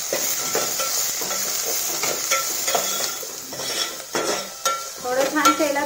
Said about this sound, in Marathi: थोडं छान शेलत आपण ही फोडणी परतून घेऊया